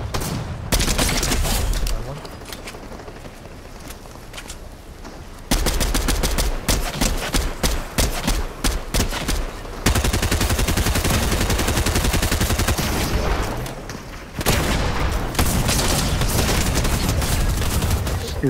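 Gunfire in a video game, including shotgun blasts, comes in repeated loud clusters of shots and dense volleys, with short quieter gaps between bursts.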